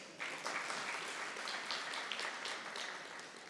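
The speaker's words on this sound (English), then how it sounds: "Clap for yourselves." An audience at a bank's digital product launch in Kenya claps for itself, a dense, even wash of applause that starts abruptly and holds steady without speech.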